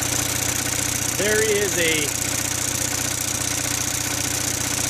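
An Onan 5CCK generator engine runs at a steady, loud mid-pitched drone with a faint exhaust smoke fault, while someone speaks a few words briefly over it.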